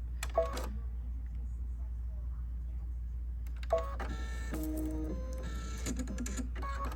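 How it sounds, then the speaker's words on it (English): An embroidery machine stitches a basting line while sewing a pineapple crossbody bag, giving short whirring bursts near the start, then a longer run of stepped, whining motor tones over a low steady hum. "So we're just going to stitch our basting line."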